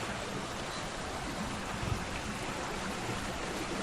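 Water rushes over a small stone dam in a stream, a steady, close broadband wash that holds constant throughout with no voices.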